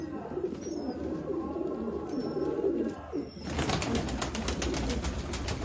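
Turkish-style pigeons kept for sale, cooing softly in a loft among ongoing background noise, with a broad rustling or flapping burst in the latter half; no speech.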